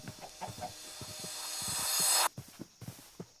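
Chickens in the Minecraft video game cluck in a string of short, soft, close bursts, with a rising hiss swelling behind them before cutting off abruptly.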